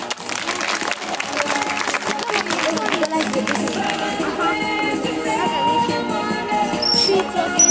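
An outdoor audience at a dog show demonstration in Varsány in 2009 bursts into sustained clapping and crowd noise, moderately loud and steady throughout, with a voice talking over the top.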